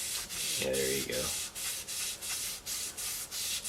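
Rhythmic rubbing strokes of sandpaper on a wooden guitar fretboard, about a dozen even passes with a brief hum partway through, close and fairly quiet.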